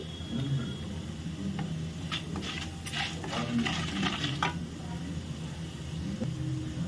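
Soft sizzling of food frying in a pan, with bursts of scraping and stirring in the middle, fairly close and moderately quiet.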